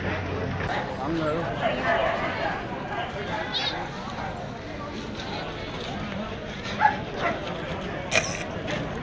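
Dogs at a dog show in Krishnagiri yip and bark in short scattered bursts, some near and some farther off, over a busy crowd murmur and voices talking.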